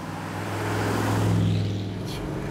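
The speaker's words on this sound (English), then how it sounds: "that sounds way too bad for a Merc Parklane" A classic Mercury Park Lane's engine gives off a deep, rough, steady rumble up close, slowly swelling in loudness and then easing, with no one talking.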